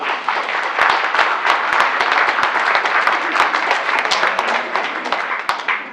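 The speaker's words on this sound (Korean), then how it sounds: "박수 한번" Applause fills a Korean art song concert with commentary, many hands clapping in a dense, lively patter with distinct individual claps popping out, sustained for several seconds.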